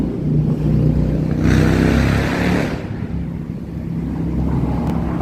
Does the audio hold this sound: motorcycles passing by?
yes